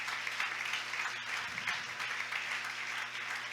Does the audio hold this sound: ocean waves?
no